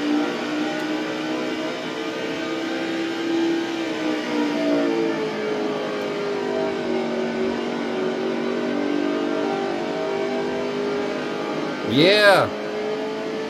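NASCAR Cup Series race car at New Hampshire, its engine droning steadily at high revs through a lap, with the pitch wavering as it works around the track; a brief sharp swooping pitch sweep near the end and a short spoken exclamation.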